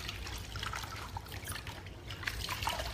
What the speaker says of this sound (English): we're ready to pull the shawl out of the water. And you just want to give it a nice gentle squeeze